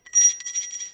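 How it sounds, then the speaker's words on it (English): A small hand bell rung once indoors, a bright, close metallic ring that trembles with a quick rattling flutter for about a second before fading. "Ring the bell."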